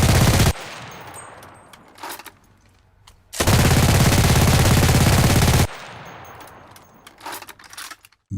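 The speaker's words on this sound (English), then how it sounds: "This PPSH-41 box magazine weapon would be one of the best in the game if not for its magazine" Bursts of PPSh-41 submachine gun fire from a video game: two long, loud sustained volleys separated by quieter gaps with scattered distant shots and clatter.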